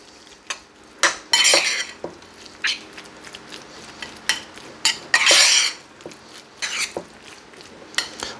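Utensils scrape and clink against a bowl while beef tartare with grated parmesan is mixed, irregular bursts of stirring with a few sharp taps, close and fairly loud, no talking.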